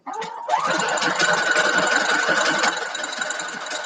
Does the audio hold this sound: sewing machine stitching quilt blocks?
yes